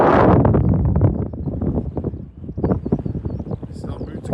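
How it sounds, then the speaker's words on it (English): Gusty wind buffets the microphone on an exposed hilltop during a coast-to-coast charity bike ride, a loud, rumbling roar that eases and returns in bursts while a person talks over it. "Oh, it's a tad windy up here, but it's nice."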